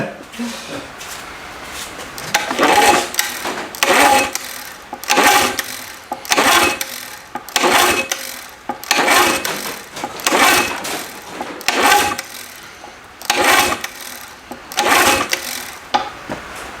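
Old outboard motor, once seized, firing up in repeated short bursts, each coughing run stopping and restarting in a choppy rhythm, with people talking between bursts.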